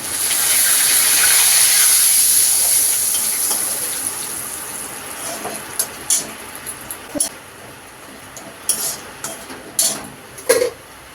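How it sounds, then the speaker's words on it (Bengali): Bay leaves drop into hot oil with cumin seeds in a wok, setting off a loud hiss that gradually dies down into scattered sharp crackles and pops. "এবার তেজপাতা দিচ্ছি"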